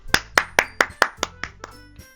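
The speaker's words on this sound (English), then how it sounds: "The four of us applaud." A small group of four applauding in the visual novel Doki Doki Literature Club, about eight crisp claps in an even rhythm that fade toward the end, close and clear with no talking.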